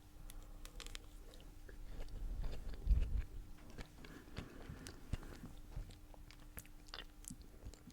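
Someone chews and bites into an ice cream cone up close, with soft crunching and wet mastication sounds that are quiet but distinct, and no talking.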